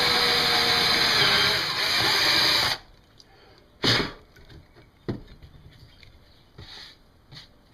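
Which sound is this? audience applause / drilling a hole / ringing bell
drilling a hole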